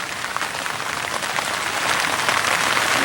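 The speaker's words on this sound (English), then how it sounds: "Let me show you this side of the garden while it's raining here." Steady rain falls across a vegetable garden of tomato plants and weed fabric, a dense even patter that swells slightly louder toward the end, with no voices.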